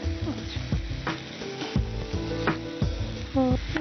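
Boiled potato is stirred and fried in a pan, with a soft sizzle under repeated scraping and clinking strokes of a spatula against the metal at an uneven rhythm, close by and without speech.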